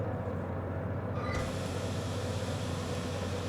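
A restoration locomotive in the railway simulation game Derail Valley, in first gear, starts to move with a steady low engine drone and hum, joined partway through by a sudden brighter hiss, with no talk.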